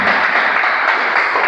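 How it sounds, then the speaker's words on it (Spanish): Church congregation applauding during a Spanish-language sermon, a loud, dense wash of clapping filling the short moment without speech. "Dale ese aplauso al Señor."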